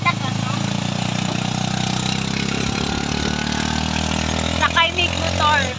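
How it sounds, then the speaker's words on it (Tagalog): Motorcycle engine idling steadily with a low, even putter throughout, close and fairly loud, with a voice briefly speaking over it near the end. "Sakay mig motor."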